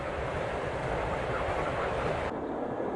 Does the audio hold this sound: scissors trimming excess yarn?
no